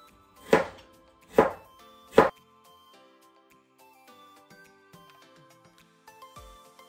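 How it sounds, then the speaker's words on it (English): Three crisp knife chops on a cutting board as ginger is cut into slices, evenly spaced and close, followed by quiet kitchen clatter. "And for the ginger, we are going to cut it to slices as well."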